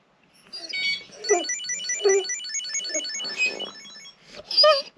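A bright electronic melody from an item tracker rung by phone chirps in quick repeating tones, ringing steadily for several seconds while a voice speaks briefly underneath.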